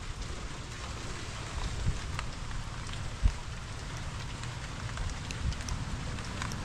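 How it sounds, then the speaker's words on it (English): Steady rain hisses outdoors, with a soft, dense patter on surfaces and a couple of brief louder taps, no voices. "you can probably tell it is freaking raining out here"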